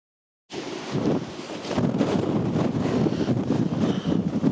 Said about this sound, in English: It's a little bit stormy today, Like wind gusts at 50 miles per hour